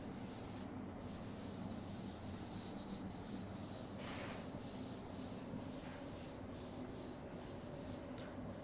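Writing is rubbed off a classroom board during a history lecture, giving a steady, continuous scrubbing hiss that stays faint and alone, with no talking.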